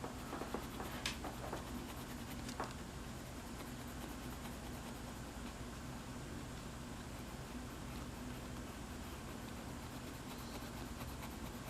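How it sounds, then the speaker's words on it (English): A pencil shades steadily across paper while drawing a dinosaur, a continuous soft scratchy rasp close up and quiet, over a low background hum, with a couple of brief sharper strokes early on. "We'll continue shading around here."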